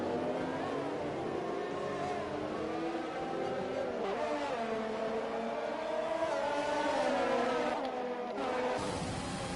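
F1 race cars in an esports racing league at the Mexican Grand Prix, engines whining in rising and falling tones as cars run close together, steady and fairly loud throughout.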